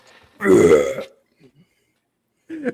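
A man imitates a loud, deep burp from a film scene, one drawn-out belch up close, followed by brief faint vocal sounds.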